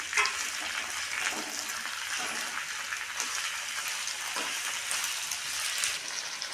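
Vegetables and chopped tomato cook in oil in a pan, giving a steady, broad hiss with faint crackle throughout, fairly close and continuous with no talking.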